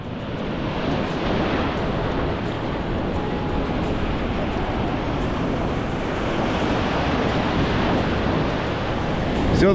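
Big ocean waves break steadily on a beach in Cancun, Mexico, a loud, continuous roar of surf with constant wash and wind, no pauses, no voices.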